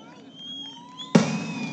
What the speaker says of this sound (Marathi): फटाके थांबवा ना आता.